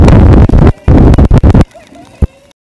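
Stone mortar and pestle grinding sambal ingredients, including takokak and palm sugar, in short, rough, scraping bursts with brief pauses, close and loud, followed by a few quieter knocks.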